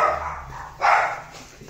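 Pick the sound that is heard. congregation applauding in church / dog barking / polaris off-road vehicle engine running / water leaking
dog barking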